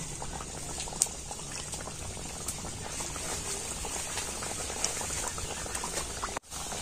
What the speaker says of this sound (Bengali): তো তেলটা কিন্তু মিডিয়াম গরম করে নিয়েছি, আর এবার আমি এগুলোকে তেলের মধ্যে দিয়ে দিচ্ছি।